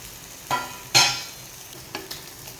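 Mixed creek fish, including boy, kharbi and tole, fry in a pan over low gas. A soft, steady sizzle is broken by a couple of sharp scraping or stirring knocks, and nobody speaks.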